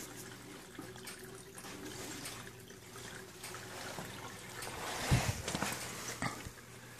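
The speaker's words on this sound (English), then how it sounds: "You can actually get used to hearing the noises of when the siphon stops and when it starts." Water from an aquaponics system built from an aquarium drains through a siphon and refills, a steady trickling wash with a low hum beneath and a louder gurgling surge near the end.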